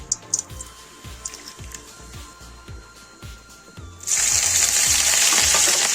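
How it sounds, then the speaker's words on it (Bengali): Dry red chillies and Bengali five-spice seeds hit hot oil in a wok, first crackling and popping in quick regular bursts, then breaking into a loud, continuous sizzle. "এবার একটা কড়াইয়ে তেল দিয়ে শুকনো লঙ্কা আর 5 ফোড়ন দিলাম।"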